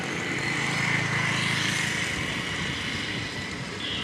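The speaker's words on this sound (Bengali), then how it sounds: "এই নৌকাটা আসছে দেখেন, তারা সব পর্যটক নিয়ে ঘুরতে গেছিল।" A tourist boat returning along the Gorai river near the Haripur bridge in Kushtia carries across the water as a steady, distant engine drone with a broad hiss of wind and water.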